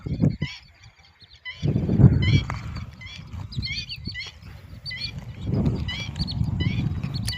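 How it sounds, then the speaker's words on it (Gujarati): Birds chirp and call repeatedly in the distance around a village lake, high twittering notes over low outdoor rumble and occasional nearby noises. "પક્ષી કિલોર કરે છે"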